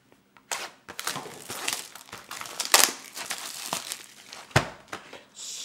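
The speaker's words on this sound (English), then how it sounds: "let's rip into the box" Plastic shrink wrap on a trading card booster box is torn and crumpled open up close, giving a run of sharp crinkling and ripping bursts with no talking.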